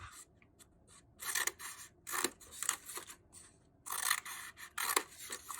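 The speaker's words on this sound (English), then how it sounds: "we're going to cut a line like this all the way up" Scissors cutting lines into paper to make a Chinese lantern, with several bursts of crisp snipping and rasping close up, separated by short pauses and no talking.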